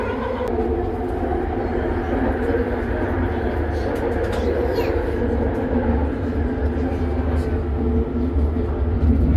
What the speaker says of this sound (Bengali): ট্রেনের ভিতরে যে দুষ্টামি করছো তোমার সঙ্গে আর আসা যাবে না ট্রেনে